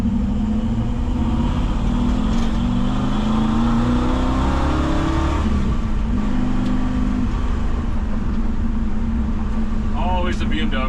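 A 1961 Ford F100 hot rod pickup, recently swapped from a T-5 to a TR-3550 transmission, drones loudly from inside the cab as the engine rises in pitch, drops on a downshift and settles to a steady hum, with talking over it.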